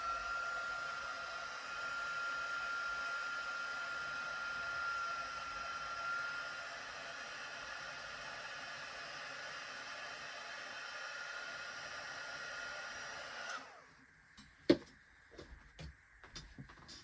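A heat tool blows a steady, faint whooshing hiss over a stamped card for several seconds, then cuts off abruptly, leaving a few small clicks and taps in a quiet room.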